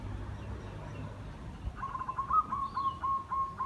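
A zebra dove's soft rolling coo rises after a quiet stretch, a rhythmic trilling call heard at moderate distance over low background noise.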